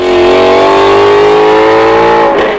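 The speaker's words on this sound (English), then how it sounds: "I bet you would love to hear that screamy V10" Porsche Carrera GT V10 engine revving hard, a loud, sustained high-pitched scream with steady rising harmonics for over two seconds before abruptly dropping off near the end.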